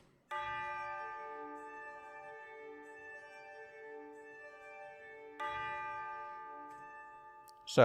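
Tubular bells from the BBC Discover orchestral library play sustained root notes of chords in a simple electronic arrangement, two resonant struck tones ringing out one after the other with long decays, the last cut short.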